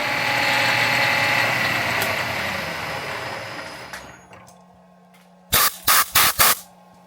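A stainless steel part for a wallet money clip is cut about 30 thousandths of an inch deep on a machine, giving a loud steady spray-like cutting noise that fades out, followed by a few short sharp bursts and a low hum.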